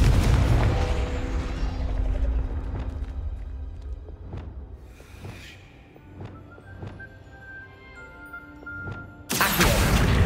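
Confringo blasting curse in Hogwarts Legacy: a deep booming explosion hits at the start and rumbles away, with scattered impacts and magical tones following, then another loud blast erupts at the very end.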